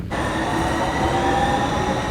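Train carriage interior at steady speed in Denmark: continuous rumbling rail noise with faint high squeal tones, fairly loud and unbroken, no talk.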